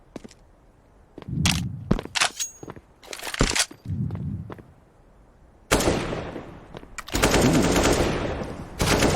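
Rapid gunfire bursts in Counter-Strike: Global Offensive during an ESL UK Premiership match, sharp cracks in clusters followed by sustained loud automatic fire near the end, with no talk.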